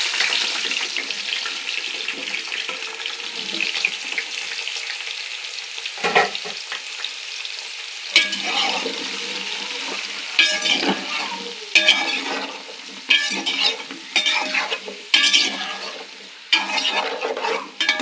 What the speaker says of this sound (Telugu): మనం కట్ చేసి పెట్టుకున్న వెజిటేబుల్స్ అన్నీ ఆయిల్లో వేసేద్దాం